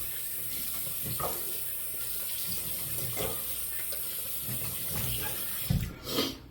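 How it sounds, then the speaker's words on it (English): Tap water runs steadily into a sink as a shaving razor is rinsed, with a constant hiss broken by soft splashes and knocks, then a louder burst of splashing as the flow ends. "we're just going to rinse it off here"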